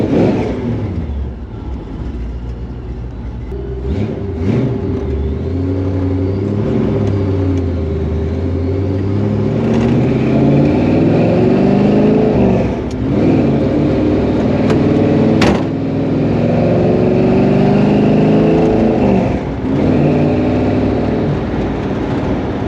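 A supercharged 1955 Chevrolet Nomad gasser engine idles with a deep rumble, then revs repeatedly in loud rising and falling bursts, close up and steady throughout with no voices.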